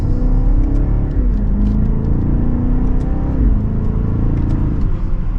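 A 2024 BMW X6 M60i accelerates hard in sport mode through second gear, its engine rumbling loudly and steadily with rising pitch sweeps and quick shift drops, heard from inside the cabin with no talking.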